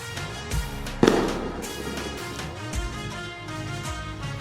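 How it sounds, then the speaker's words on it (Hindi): Firecrackers pop and bang at irregular intervals during an Ahoi Ashtami night celebration, one sharp close blast standing out, over a steady musical drone in the background. "यहाँ पटाखे चलने लगे थे। पटाखे की आवाज़ से हम समझ गए थे कि तारा निकला है।"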